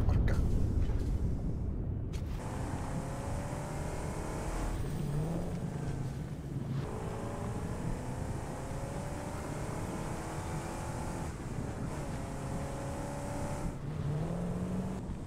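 Car driving in the video game Satisfactory, a continuous engine drone with shifting revs and occasional bumps, moderately loud and steady throughout with no talk.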